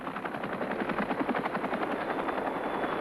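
Rapid rotor chop of a Cobra attack helicopter in flight, a steady fast thudding pulse over turbine whine, moderately distant and fairly quiet throughout.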